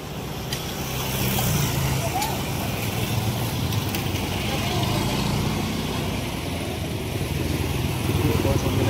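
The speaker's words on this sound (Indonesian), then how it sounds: "ada truk-truk lewat nih, truk lewat untuk mengangkut puing-puing" Trucks hauling debris during a cleanup rumble past outdoors in a steady, loud engine and road roar. A person talks over the noise throughout.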